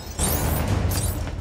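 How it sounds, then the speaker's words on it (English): A big explosion in Lego Marvel Superheroes, a sudden loud boom that swells into a rumbling roar and fades over a second or so, heard alone. "Possible laboratory break-in confirmed by big explosion"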